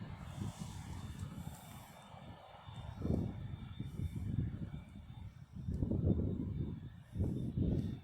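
Airliner jet engines, from a Ryanair 737 and an A380, rumble steadily at an airport, a low droning roar that swells in loudness toward the end, heard from a distance with no talk.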